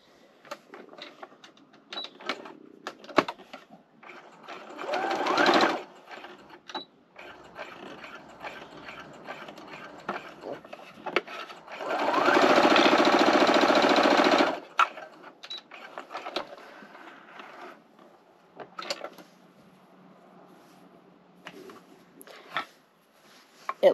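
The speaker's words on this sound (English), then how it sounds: "let's see if it sews." A home sewing machine runs a straight stitch in two steady whirring bursts, a short one and then a longer one, separated by quiet handling clicks and rustles.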